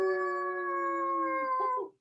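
A person imitates a wolf howl during a yoga session: one sustained, clear vocal tone lasting about two seconds that holds steady, then wavers and drops away. It is close and heard alone.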